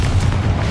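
Confringo blasting spell exploding in Hogwarts Legacy, a short, loud, deep booming burst that fills the whole moment without talk.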